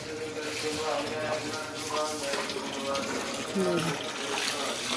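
Water gushes and splashes steadily across the hard floor of a cattle shed, a continuous rushing wash with a voice talking faintly over it.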